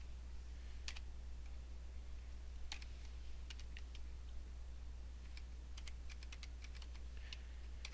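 Keys on a computer keyboard are tapped in short, scattered bursts while a file name is entered, quiet clicks over a steady low hum.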